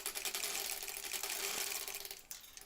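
A sewing machine stitches slowly along a foundation paper piecing line for a quilt block, a steady close-up mechanical whir with rapid rhythmic needle clatter that runs continuously, then eases briefly near the end before picking up again.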